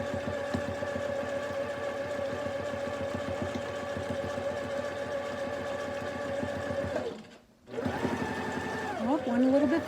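A sewing machine runs steadily at moderate speed while free motion quilting a double wedding ring quilt, a close continuous rapid needle chatter that briefly stops, then restarts with a faint voice over it.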